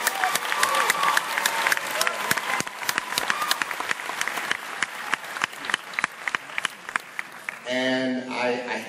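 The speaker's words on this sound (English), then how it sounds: "They deserve a round of applause," A Hollywood premiere crowd for the film Riddick bursts into loud, dense applause with scattered cheers, the clapping sustained for about eight seconds before a voice speaks briefly near the end.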